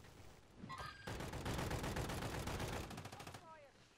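A burst of rapid automatic gunfire in Modern Warfare 3, loud and sustained for about two seconds, with brief voices just before and after.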